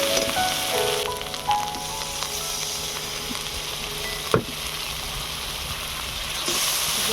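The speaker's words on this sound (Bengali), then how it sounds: "জল দিয়ে দিয়েছি একটু। এবারে কষিয়ে নেবো মশলাটা।" Ground spices with salt, turmeric and chilli powder sizzle steadily in a pan after a splash of water, a continuous close frying hiss with a few stirring scrapes and one sharp clink, for chicken aloo kosha.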